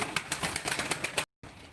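Pigeons at a live pigeon auction flutter and flap close by in a quick run of wingbeats, cut by a short dropout, then the rustling resumes.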